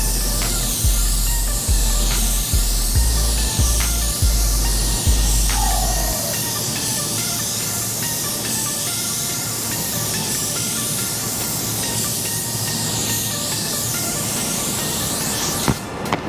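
Spray gun laying thin, wet coats of white pearl car paint, a steady close hiss that runs continuously with a few low knocks early on, no voices.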